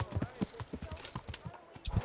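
A horse's hooves clip-clop at a walking pace in the video game Kingdom Come: Deliverance, a soft, uneven rhythm of hoof falls with faint background sound and no clear talk.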